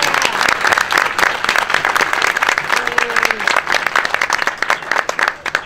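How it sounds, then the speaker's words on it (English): Guests at an office luncheon for Administrative Professionals Day give sustained, dense applause, steady clapping throughout with a brief voice heard midway. "So I can give them a round of applause."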